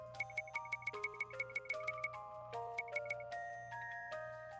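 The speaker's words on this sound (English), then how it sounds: "Wake up bell? Yeah, sure." A wake-up bell in the video game Bravely Default plays as a bright, melodic chime tune of quick repeated bell notes stepping through a cheerful pattern over a faint low hum, with no talking.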